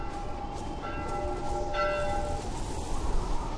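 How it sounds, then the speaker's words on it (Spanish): Church bell ringing in The Last of Us on PS3, a few clear tolls with lingering tones over a noisy game background, no speech heard. "¿Por qué suena la campana, tío?"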